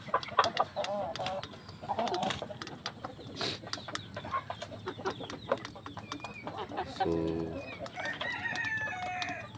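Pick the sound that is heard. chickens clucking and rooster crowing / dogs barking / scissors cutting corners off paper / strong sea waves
chickens clucking and rooster crowing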